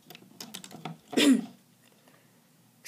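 A person with a cold gives one short, throaty cough close by, after a few soft tapping sounds, then quiet.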